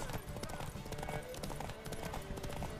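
A horse gallops in a race in the video game Witcher 3, its rapid rhythmic hoofbeats loud and close under game music and a voice talking.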